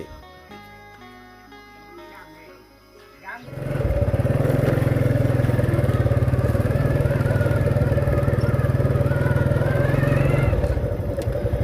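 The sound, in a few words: motorcycle riding out of a village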